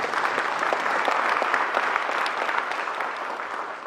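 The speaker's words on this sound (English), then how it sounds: "So you deserve a round of applause for us" Steady applause from a keynote conference audience, dense and even clapping from many hands held at one level throughout, with no voices above it.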